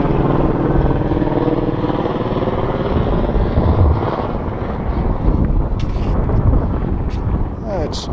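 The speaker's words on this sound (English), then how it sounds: "there's a helicopter flying in a bit of gear" A helicopter flies in near Everest Base Camp in Nepal, a distant rumbling drone mixed with breeze noise in the open mountain air, fairly constant with slight swells.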